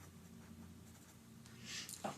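A pen writing on paper, a soft, continuous scratching close by under a steady low hum, with a few slightly louder strokes near the end.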